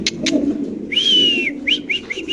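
A cream bar beauty pigeon calls up close with a few short chirps, then a drawn-out whistle-like note followed by several quick rising chirps, over a low background hum.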